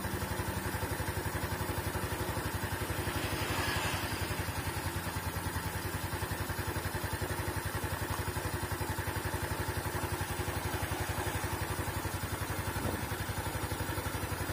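A Yamaha Mio scooter idles steadily after its carburetor is adjusted, a close, even mid-pitched putter with a light mechanical clatter, carrying on unbroken with no voices.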